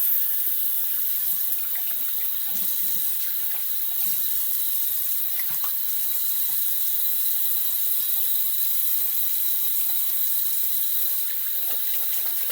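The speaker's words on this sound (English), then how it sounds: "let me rinse this off." A running tap rinses shaving soap off after a straight-razor shave, producing a steady continuous water hiss with small splashes and irregular splatters as hands and face move under the stream.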